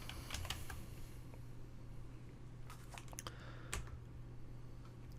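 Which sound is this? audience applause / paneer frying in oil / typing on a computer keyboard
typing on a computer keyboard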